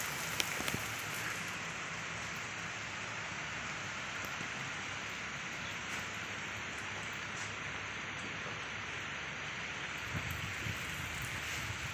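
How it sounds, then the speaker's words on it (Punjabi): Steady rain pattering on surfaces, a soft continuous hiss that carries on throughout with no voices. "ਮੀਂਹ ਪੈ ਗਿਆ"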